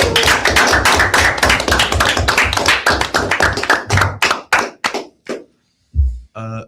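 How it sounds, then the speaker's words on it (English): Applause for a chess coach at an eSports chess championship celebration, a dense burst of clapping with whoops lasting several seconds before tapering into scattered claps and silence. "Honestly, just a round of applause for him."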